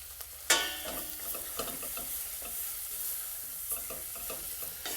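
Meat and paprika stirred together in a pot for Croatian beef goulash, a sharp clank of the spoon at the start, then a soft sizzle with rhythmic scraping stirs.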